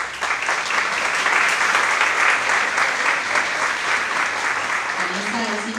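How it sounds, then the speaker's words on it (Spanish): Warm audience applause at an academic conference on reading fluency, steady dense clapping throughout that fills the room at an even level, with faint voices underneath near the end. "la doctora Vanessa Demier, con un cálido aplauso."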